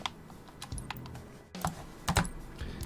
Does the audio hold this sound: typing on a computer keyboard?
yes